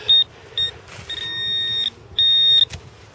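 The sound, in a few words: metal detector beeping over a coin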